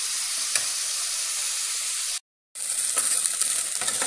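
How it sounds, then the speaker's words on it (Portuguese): Chicken pieces fry in a pan with a dense, continuous sizzle and crackle close by, briefly cutting out before resuming with occasional pops and stirring scrapes. "Agora eu vou dar uma leve fritada."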